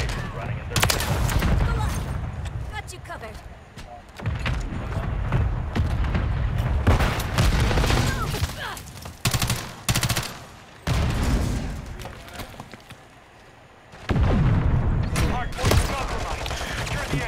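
Call of Duty MW3 multiplayer gunfire as shots punch through a wall, loud rapid automatic bursts and heavy booms broken by short pauses, with people talking over it.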